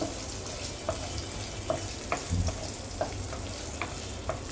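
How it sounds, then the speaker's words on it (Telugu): Capsicum pieces fry in a pan with cumin and cloves, giving a steady low sizzle with scattered light clicks of stirring, fairly quiet and close, with no voices. "ఇప్పుడు క్యాప్సికమ్ ముక్కలు కొంచెం కట్ చేసి వేస్తున్నాం. ఇవి బాగా ఫ్రై చేయండి."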